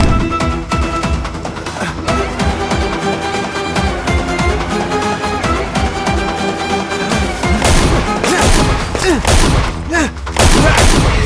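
Loud gunshots and booms ring out in a dramatic film scene, set against a dense, sustained musical score that runs throughout.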